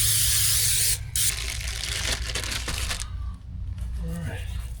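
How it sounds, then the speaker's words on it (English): Cooking oil sprayed from a can for pizza dough, a loud hiss lasting about a second followed by shorter bursts and faint rustling, with a voice talking nearby. "I'm going to spray these with a little bit of oil to help the dough from sticking."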